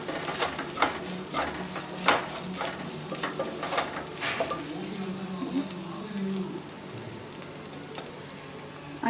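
Chillies frying in a pan with a pinch of turmeric powder for mirchi chicken roast, stirred with a utensil: continuous close sizzling, punctuated by irregular scrapes and clacks against the pan.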